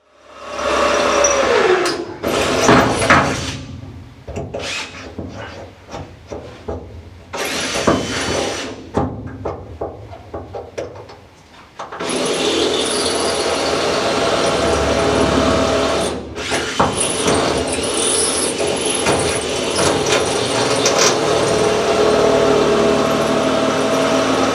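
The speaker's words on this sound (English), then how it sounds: "we're going to start by drilling some holes up from the bottom for the back mount." Power drill boring holes up through the bottom of a GT3 road race car chassis for a back mount, loud close bursts of whining drilling separated by short pauses, then a long sustained run of drilling.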